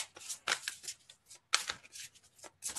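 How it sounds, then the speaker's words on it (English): Oracle cards from an Archangel Michael Sword and Shield deck being shuffled and drawn, giving soft, close, papery flicks and riffles in irregular bursts, quiet and alone. "we will draw two cards from the Archangel Michael Sword and Shield Oracle"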